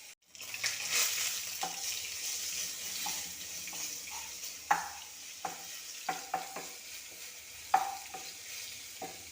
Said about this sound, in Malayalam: ഇനി അതിലേക്ക് ഇഞ്ചി വെളുത്തുള്ളി ഇട്ട് കൊടുക്കാം